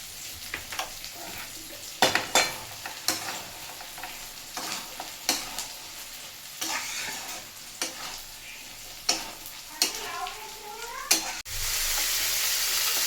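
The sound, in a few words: tomato with salt and spices frying in a pan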